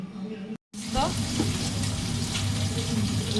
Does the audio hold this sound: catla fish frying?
yes